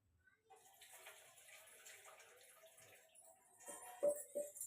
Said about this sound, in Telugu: ఇంకా ఇప్పుడైతే కడుగున్నా కదా వాటర్ అయితే అక్కడ వంపుకుంటున్నా